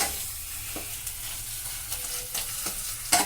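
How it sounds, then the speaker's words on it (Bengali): Potatoes frying in hot oil sizzle steadily as a utensil stirs them, with a few scraping clicks from the pan, up close and without talk. "আলুটাকে ভালো করে একটু নেড়ে নেবো তেলেতে।"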